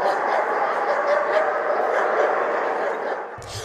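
Dogs at an international dog show in Shymkent yip and bark in a busy hall, their short calls rising over a steady crowd murmur and nearby talking for the whole stretch.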